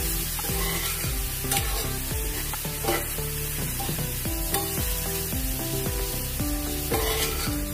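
A spiced cabbage mixture with Kashmiri chili powder, salt and black pepper sizzles steadily in a pan while a utensil stirs and scrapes through it in repeated strokes, close and continuous.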